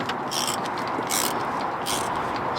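A ratchet works loose the captive bolts on the inlet manifold of a Land Rover Freelander during glow plug replacement, giving close, loud bursts of rapid clicking strokes with short pauses between them.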